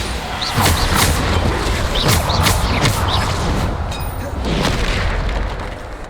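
Repeated booming blasts from Bombarda spells in the Hogwarts Legacy game, loud and close, several hits in quick succession over a rumbling battle background.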